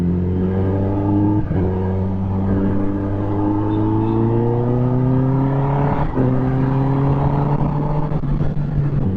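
A Kawasaki ZX10R superbike engine roars loud and close, revving up in long rising sweeps, dropping briefly near two seconds and again near six seconds before climbing once more.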